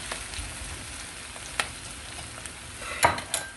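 Peeled, cut potatoes frying in a pan, giving a low, steady sizzle with a few sharp clinks and scrapes of stirring near the end, and no talk.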